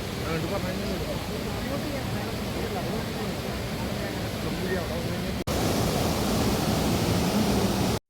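The Seetharkund waterfall rushes in a steady, loud broadband roar, continuous and enveloping throughout, with a brief dropout near the end.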